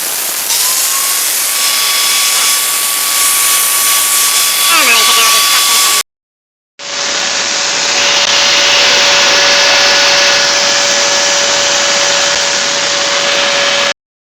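Old car exhaust being cut off during a Dynomax cat-back upgrade: a loud, steady grinding whine close by, one long burst, a short silence, then a second sustained burst.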